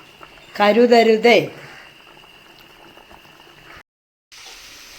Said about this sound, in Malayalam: ലഞ്ചിൻ്റെ കൂടെ കഴിക്കാനുള്ള അയിലക്കറിയാണ് തിളയ്ക്കുന്നത്